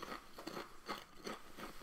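Walkers Chicken Burrito crisps bitten and chewed close up, several sharp crunches in an irregular rhythm, loud and dry with no talking.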